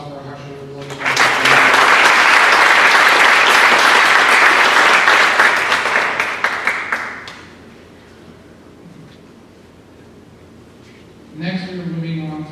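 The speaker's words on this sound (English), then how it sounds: "One last round of applause for our Husher." Audience at a senior awards ceremony breaks into loud, sustained applause that fades after several seconds, followed by a quiet pause before a speaker's voice returns.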